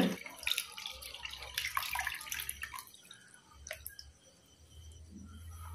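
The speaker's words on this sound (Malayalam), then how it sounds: "ഇനി ഇതിലേക്ക് ആവശ്യത്തിനുള്ള പുളി ഒഴിച്ചു കൊടുക്കുക" Tamarind water is poured into a Kerala-style fish curry, first a close splashing, trickling pour for a couple of seconds, then quieter drips and faint liquid movement.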